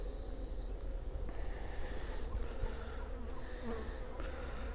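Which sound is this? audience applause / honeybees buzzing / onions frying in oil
honeybees buzzing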